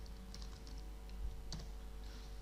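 Keystrokes on a computer keyboard, a short burst of light clicks followed by a single sharper tap, quiet and close.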